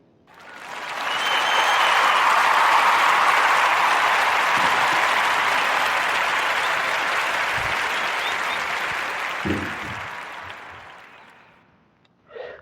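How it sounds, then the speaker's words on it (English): A live audience gives a warm round of applause, swelling in quickly, holding as a broad sustained wash of clapping, then gradually thinning and fading out near the end. "want to give a warm narrative podcast round of applause for Ahua Asar and its appropriate candle company"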